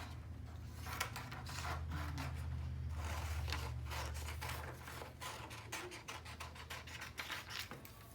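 Scissors cutting out a paper basketball shape for a sports-themed craft mobile, a steady close rasping snip that runs for several seconds under a low hum, then lighter, scattered cuts.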